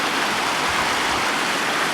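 A river flows across moorland with a steady, full rushing hiss of water, close and continuous, with no voices over it.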